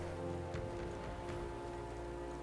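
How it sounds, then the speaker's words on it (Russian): Rain falls in a video game, a faint steady hiss under a low droning game soundtrack, with no voices. "Что-то сегодня дождь идет."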